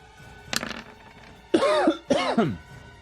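Two harsh coughs in quick succession, close and loud, after a brief scrape of sound, used as a sound effect in a Pathfinder 2E tabletop game session.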